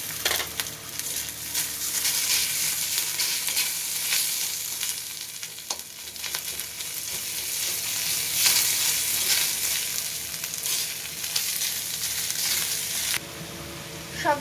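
Chopped onion, chili, ginger and garlic frying in oil in a pan, a steady sizzle with occasional scraping stirs, fairly close and continuous throughout with no talk.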